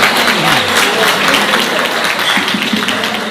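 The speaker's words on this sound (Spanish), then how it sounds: "Fuerte los aplausos" Loud audience applause at a journalists' day celebration in Villa Ángela, a dense continuous wash of clapping with a voice faintly audible underneath.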